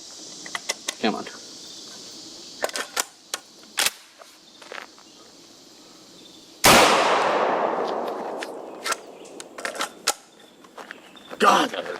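A gas-driven semi-auto shotgun fires a slug at close range, one sharp, very loud blast with a long decaying echo, set among clicks and handling noises on a field range.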